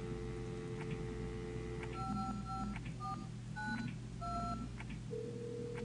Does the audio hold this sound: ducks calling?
no